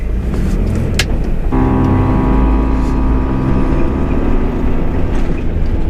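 4WD vehicle crawling up a rocky track in second gear low range, a steady close engine drone that rises into a strained, higher-revving hum as it climbs, with rough bumps and rattles throughout.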